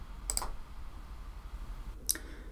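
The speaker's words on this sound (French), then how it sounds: "Je clique sur « Rechercher avec OR »." Two sharp, quiet computer mouse clicks about two seconds apart on a search button in a database interface, with no talk in between.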